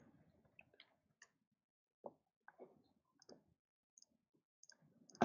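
Sharp, isolated mouse clicks while links are opened, scattered irregularly through a quiet stretch with soft handling sounds between them.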